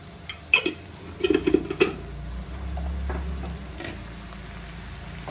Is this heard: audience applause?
no